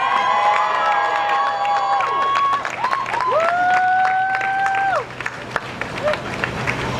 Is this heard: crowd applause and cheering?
yes